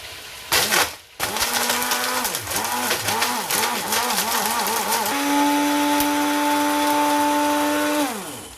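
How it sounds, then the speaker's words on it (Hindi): Whole spices for mutton nihari are ground in an electric grinder. A short clatter leads into a loud motor whir that pulses in bursts, then holds one steady high whine before cutting off. "ग्राइंड कर लेते हैं एक ग्राइंडर के अंदर डाल के"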